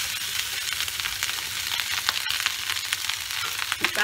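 Leftover rice frying in a pan for Bengali bhat bhaja, a steady close sizzle with scattered crackles and a few stirring scrapes near the end, no voices.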